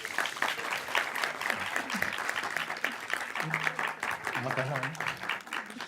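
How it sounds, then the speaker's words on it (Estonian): Audience applause for the judges at a youth film festival gala, a steady wash of clapping throughout, with a voice speaking briefly over it near the end. "Ja kõikidele kohtulikele palun aplaus suure töö eest."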